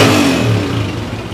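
A 2024 Honda 125 motorcycle engine revving close by, a loud, rough mid-pitched roar that holds briefly and then eases slightly.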